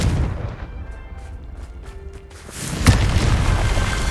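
A Confringo blast spell explodes in the Hogwarts Legacy video game, a loud booming detonation with a sharp crack near the end, over a noisy rumbling combat background. No talking.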